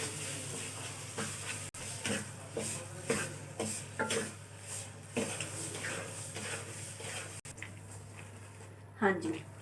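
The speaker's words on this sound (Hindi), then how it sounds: "साथ साथ इसको भी मिक्स करेंगे हम।" Sugar is stirred into suji halwa made with fresh cream, giving a soft sizzle and irregular scraping strokes in the pan, while a voice talks over much of it.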